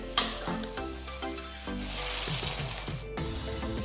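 Fresh basale (Malabar spinach) leaves hit tomatoes already frying in a pan, giving a steady loud sizzle with stirring clatter and scraping throughout, no voices.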